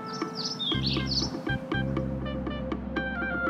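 Birds chirp in short, bright bursts over a steady tonal background hum, with several quick high calls early on and scattered tweets after, fairly faint.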